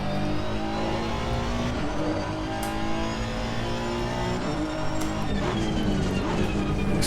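Honda race car engine lapping Brands Hatch in a racing video game, a steady loud drone with shifting revs throughout, the driver feathering the throttle gently on the final lap.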